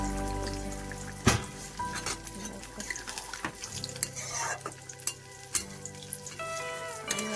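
Water is poured into a pan of jackfruit and prawn curry with potatoes on the stove, giving a steady pouring and running-water sound with light sizzling, close and moderately loud, with no talking.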